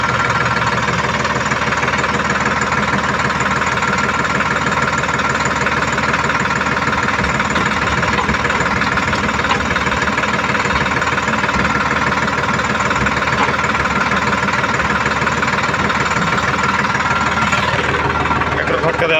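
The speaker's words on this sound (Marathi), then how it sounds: "ट्रॅक्टर नॉर्मल आरपीएम वर आहे." A tractor engine runs at normal RPM, powering a soybean thresher. It gives a loud, continuous, knocking drone that stays steady from start to end.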